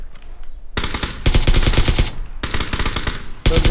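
Automatic gunfire in PUBG, fired in several loud, rapid bursts separated by short pauses, with each close, sharp shot running into the next.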